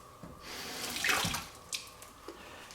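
Tap water runs into a sink as jalapeno seeds are rinsed out, a soft steady splashing stream for about a second and a half, then a couple of faint drips and knocks, with no talking.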